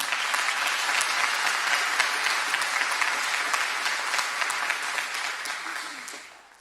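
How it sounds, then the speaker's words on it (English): A graduation audience at an early college high school gives the principal a steady, loud round of clapping that holds evenly before fading out at the end. "Please give her a round of applause for her hard work."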